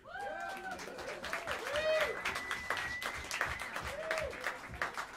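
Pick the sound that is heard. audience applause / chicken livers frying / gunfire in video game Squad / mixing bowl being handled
audience applause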